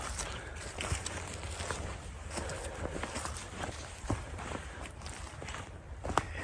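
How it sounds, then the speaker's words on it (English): Footsteps on a wooded trail crunch in an irregular series of soft, fairly close thuds over faint outdoor ambience, with no voices. "You hear those footsteps?"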